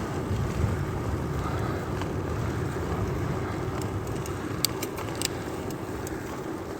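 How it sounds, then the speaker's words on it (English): Strong wind buffets the microphone while riding at speed, a constant roaring rumble with a few faint clicks and no talk. "we're getting blasted by wind"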